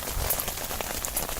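Rain patters steadily at a beach camp under a tarp shelter, with scattered drops tapping a nearby surface in an even, close wash of sound.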